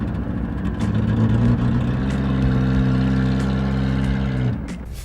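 A carburetted Japanese off-road car engine revs up and holds a steady, loud drone close by, harmonics rising then settling before the revs drop off near the end.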